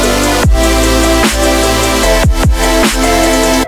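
A piano plays a progression of seventh chords, with four or five clear chord changes that each sustain and blend into the next, loud and close with no talking.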